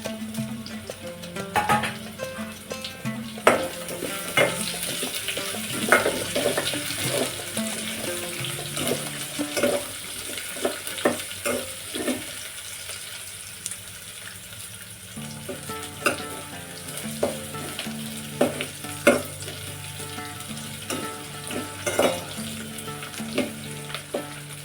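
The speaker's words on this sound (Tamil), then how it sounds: "வெங்காயமும் பூண்டும் நல்லா வதங்கி வந்துடும் மாதிரி எண்ணெயிலேயே" Onion and garlic fry in oil for a brinjal gravy, a steady close sizzle with scraping stirs and occasional clinks, joined in places by brief running water from a tap.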